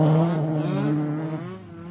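A Ford Escort MK1/MK2 rally car at the Boucles de Spa 2011 comes in with a loud, steady engine drone that eases slightly as it brakes for a barrier entry, heard alone with no voices.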